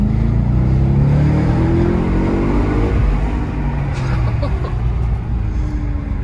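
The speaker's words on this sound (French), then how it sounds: "Là, je dis je vais accélérer 2 secondes, tu vas monter à 100 directement." An Audi RS4 with a 450-horsepower V8 accelerates hard, its loud engine roar heard from inside the car with rising tone and dense low rumble, continuous throughout.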